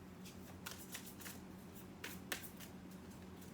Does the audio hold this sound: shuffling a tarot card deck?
yes